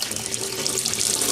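A newly fitted kitchen tap runs steadily into the sink, a close, loud hiss of rushing water with slight sputtering from air in the hot side, no voices.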